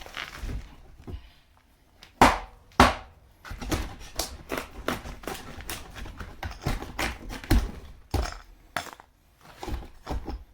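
Series of sharp wooden knocks and smacks from a claw hammer striking a shed wall at irregular intervals, two louder strikes early on, with clattering impacts and debris noise between them.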